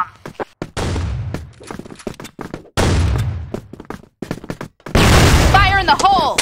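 In the CrossFire shooter game, a flash bomb bursts amid rapid gunfire, with loud repeated shot bursts and booms, ending in a sharp blast followed by a ringing whine; a voice calls out over the action.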